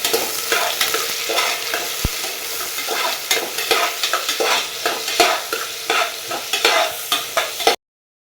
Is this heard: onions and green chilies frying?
yes